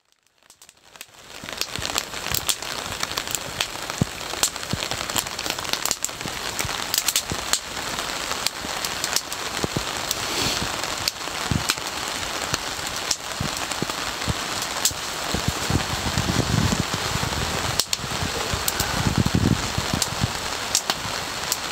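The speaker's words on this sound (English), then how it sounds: "It began to pour rain." Heavy rain pouring at a camp on the upper Pitt River, a dense, steady patter and hiss of drops on surfaces with scattered louder crackling hits, continuous and close with no voices.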